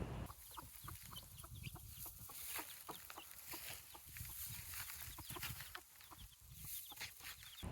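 Chickens, including a small jungle fowl breed, cluck repeatedly in short, uneven bursts, fairly close, with soft farmyard noise behind them and no talking.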